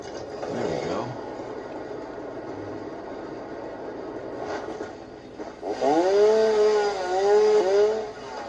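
Chainsaw in the factory-building video game Satisfactory, heard as a mechanical whir that fades in and out, then revs up into a louder, rising and falling harmonic whine near the end.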